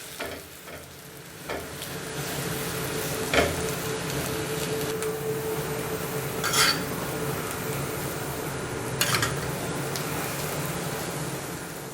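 Adai, a flatbread made from nutritious multigrain flour, fries in oil on a dosa griddle with a continuous, even sizzle. A few light metallic clinks and scrapes from a utensil break through now and then, with no voices.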